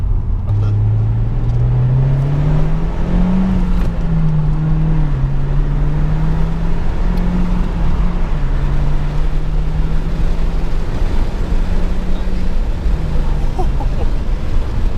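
A car accelerates hard from about 25 in second gear on a full-throttle boost pull, its engine note rising steadily and droning loudly throughout amid wind and cabin noise, with people talking inside.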